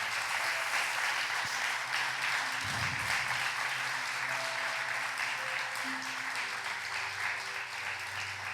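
A church congregation applauding during a sermon, sustained clapping from a crowd at moderate distance, fairly quiet and even throughout, with some low hum underneath.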